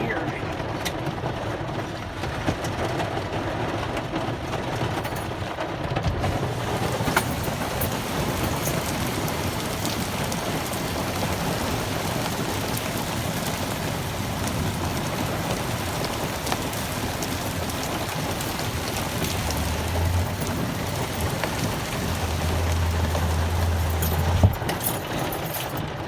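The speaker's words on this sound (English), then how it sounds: "Is this some of the worst rain you've ever seen?" Heavy summer rainstorm pounding down in a dense, continuous roar on surfaces nearby, with a low rumble rising near the end, while people talk under the downpour.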